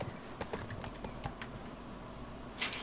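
A horse's hooves clip-clop faintly in The Last of Us video game, with scattered, irregular clops over a soft background hiss and a slightly stronger cluster near the end.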